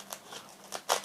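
A layer of shadow foam insert in a tool chest drawer peels back with faint, brief crinkly tearing bursts, the last one the loudest.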